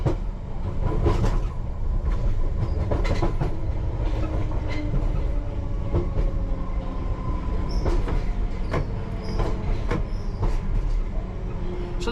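London Underground train arriving at Ealing Common at night, a loud steady rumble heard from the driver's cab with repeated wheel clicks, rattles and faint squeals over the rails.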